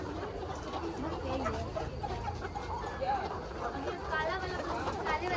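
Chickens cluck and chatter on a village farm, a steady busy mix of hen calls close by, with a person talking over them.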